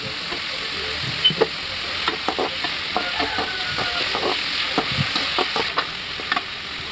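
Onions sauté in a pan for a homemade evening snack. A steady close sizzle runs throughout, broken by scraping stirs of a spoon.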